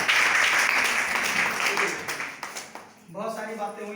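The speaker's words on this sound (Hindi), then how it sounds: "चलिए जोरदार ताली" Applause at a health care meeting in Raebareli: loud, dense clapping from a seated audience that thins out and stops after about three seconds, followed by someone speaking.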